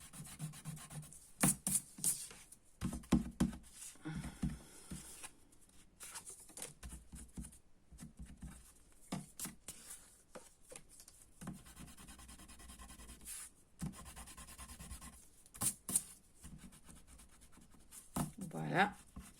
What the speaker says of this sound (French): Je vais déjà gommer